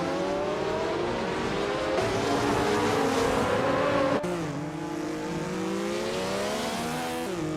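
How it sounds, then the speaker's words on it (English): A classic 1982 Rondo M382 Group C2 race car launches from pole at a race start, its engine roaring loud and steady as it revs up through the gears, with pitch climbing and dropping at each shift. "Jazz, in the Group C2 class, is starting strong on pole position in a classic 1982 Rondo M382."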